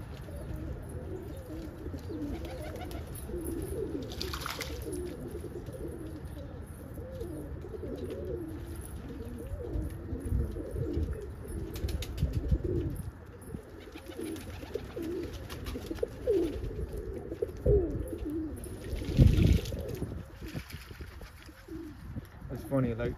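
Pigeons coo softly in a loft on a rainy day, low rolling calls among scattered bird sounds and rustling, with someone talking nearby.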